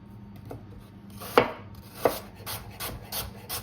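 A knife cuts apple into pieces on a board for apfelstrudel, giving a few distinct chopping thuds followed by a run of quicker, lighter cuts, close up with no talk.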